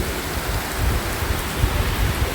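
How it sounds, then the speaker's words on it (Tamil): Heavy rain pours down in a steady, dense roar that fills the whole stretch, loud and continuous with no voices. "மழை பெய்யுமான்ட்டு சொல்லிகிட்டு இருந்தேன் பாருங்கள் மழை கொட்டுது"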